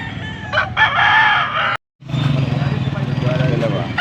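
Roosters at a cheap chicken market in Angeles City, loud close crowing with clucks mixed with voices and market noise, and a brief silent break midway.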